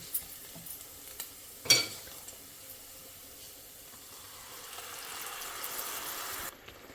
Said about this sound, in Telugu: సో అది వేసి ఈ ఆయిల్లో ఉడికే వరకు వేయించుకుందాం.